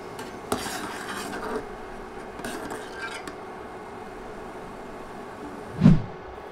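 Boiled ramen vegetables are lifted from hot water into a bowl, making sparse light clinks of utensil against dishware and then a single louder thud near the end.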